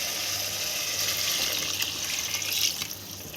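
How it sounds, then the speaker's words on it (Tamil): Steady stream of water running and splashing into a bowl of rice, continuous and close, with no voices. "இதே கிண்ணத்தில் நம்ம 3 கப்பு தண்ணி ஊற்றிக்கலாம்"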